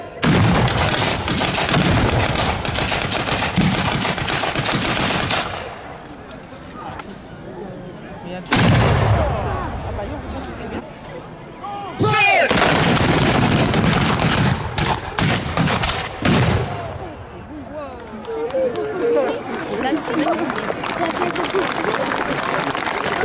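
Historical reenactment artillery cannons fire in a series of loud, booming blasts with long rumbling decays, the first volley sustained and later shots following after short gaps, with crowd noise and voices beneath.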